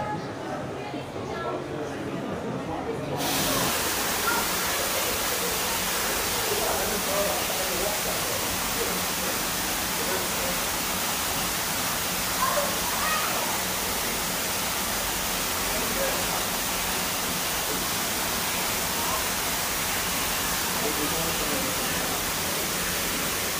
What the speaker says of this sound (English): Look at this! Full on waterfall!